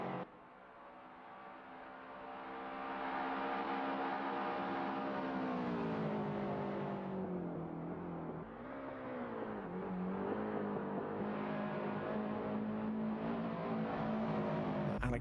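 Sim race cars at Thruxton crossing the finish line during a 750MC VRS winter championship round, engines droning loudly and steadily with pitch shifts as cars pass close by, no talk.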